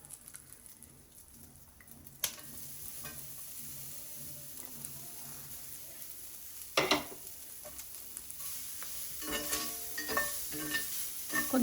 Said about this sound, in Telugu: ఈ మసాలాలన్నీ పట్టే వరకు ఒక 2 minutes ఫ్రై చేసుకుందాం.